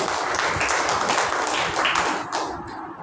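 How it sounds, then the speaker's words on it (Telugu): A church congregation claps loudly during Sunday worship, a dense, steady patter of many hands that carries on and tapers slightly at the end. "గట్టిగా చప్పట్లు కొట్టాలి."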